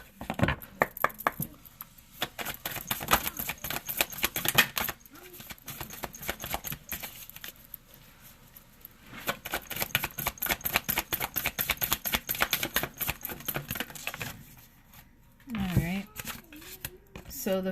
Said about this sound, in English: I'm gonna go ahead and pull self-care cards.